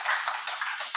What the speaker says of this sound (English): I'd like to give you a little clap as well.